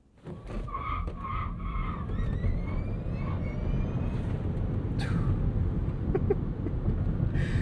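A 1,025 hp 2026 Rivian R1T Quad Max pickup on all-terrain tires launches hard, its tires squealing and scrabbling for grip as a loud, steady, rising drive roar builds through the pull.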